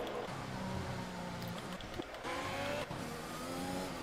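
A Mercedes Formula 1 car screams through a lap of the Spanish Grand Prix circuit in an F1 racing video game, its high engine note rising and dropping through quick gear shifts, steady and close with no talk.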